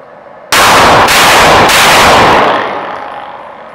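Firearm shots during a test firing, three sharp loud blasts in quick succession, each ringing on, followed by a decaying echo tail, with no talking.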